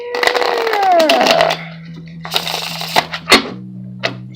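Tarot cards shuffled by hand in a few short riffling bursts, close and fairly soft, over a low steady hum.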